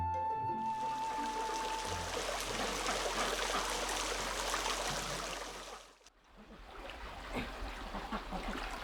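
A mountain village stream flows with a steady broadband rush and trickle. It drops briefly to near silence before the water sound resumes, slightly softer.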